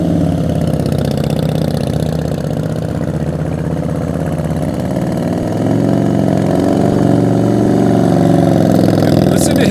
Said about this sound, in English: Listen to his RPMs the whole time.